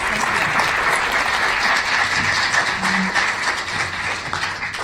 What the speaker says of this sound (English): How about another round of applause for all three of our panelists?